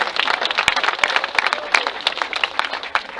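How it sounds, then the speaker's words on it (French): A crowd claps dense, loud applause at the podium of a Pentecost Grand Prix cycling race in Moncontour, continuous and close, with no talk over it. "à nouveau les applaudissements pour Manu Michaud."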